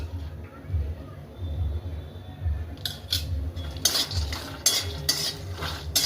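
Whole spices, including cardamom, roasting in a little oil in a pan for black masala, with a low hum and talk early on, then sharp scraping and clinking of a spoon stirring in irregular bursts.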